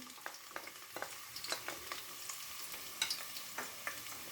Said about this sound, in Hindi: पतीली में मैंने हाफ कप के करीब ऑयल डाला है और इसमें 2 से 3 स्मॉल वाले जो हैं प्याज मैंने ऐसे रफली स्लाइस कर लिए हैं।